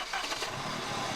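A Saab car engine, freshly rebuilt, catches and settles into a low, faint idle for about a second, a soft uneven rumble with no voices.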